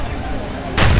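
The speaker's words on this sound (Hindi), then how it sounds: "देखो भाई फायरिंग होते हुए" Gunfire during a violent communal clash in Nuh, Haryana, with shooters firing from hilltops; a low steady rumble gives way to a louder, harsher burst of distant shots near the end.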